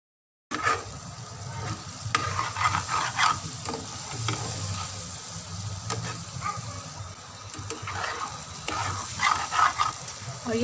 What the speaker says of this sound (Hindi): अब इसको हम हल्के हाथ से मिक्स करेंगे।